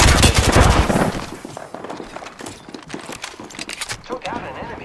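Rapid video game gunfire in Apex Legends, loud and dense at first, then sporadic shots and clattering, with voices talking over the action.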